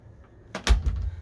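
Interior toilet and shower door in a luxury Swedish Kabe Travelmaster motorhome swinging shut, a brief soft scrape followed by a dull close thump, near and alone.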